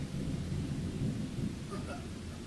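A thunderstorm rumbles with low, rolling thunder under a steady wash of rain, continuous and fairly soft, with no voices.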